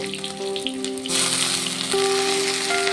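Katla fish oil hits a hot pan with chillies, and the steady frying hiss swells louder partway through, loud and close, with no voices.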